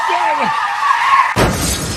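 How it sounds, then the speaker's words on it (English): A car crashes into other cars with a sudden loud impact and shattering glass near the end, after a stretch of tense voices and background noise. "And then smashed into cars."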